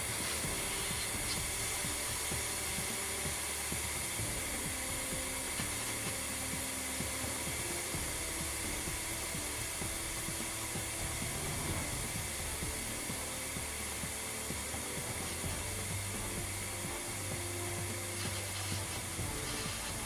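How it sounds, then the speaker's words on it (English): EXAIR Cold Gun aircoolant system blowing cold compressed air in a machining area, a steady broadband hiss that holds level and continuous without a break. "The cold gun instantaneously produces cold air from an ordinary compressed air source."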